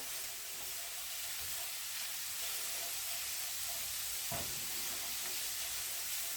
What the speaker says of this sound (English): let's stir that bacon around a little bit. It's already starting to brown